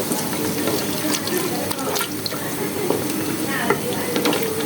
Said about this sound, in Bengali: আমি এখন এই যে ছোটো বাটির 1 বাটি পেঁয়াজ কুচি দিয়ে দিচ্ছি।